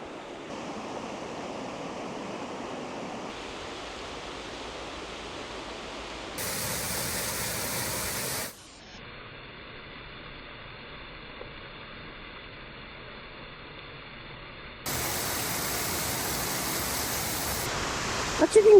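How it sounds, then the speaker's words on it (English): Aros Waterfall on the Isle of Mull rushes with a steady broadband roar heard from the top of the falls, the level shifting in blocks as the view changes. "So I'm now at the top of the waterfall."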